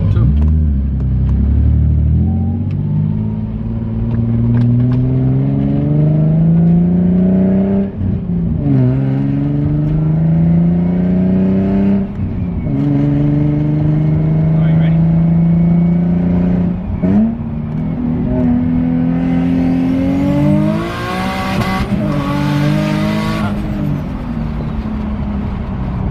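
A turbocharged 600 hp Nissan 350Z revs loudly in repeated rising surges, building and dropping as the car spins, with tire noise and a burst of hissing toward the end.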